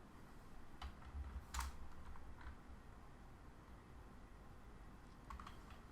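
Code being typed on a computer keyboard while building a web page, with a few quick isolated keystroke clicks and short bursts of tapping over a quiet background hum, no talking.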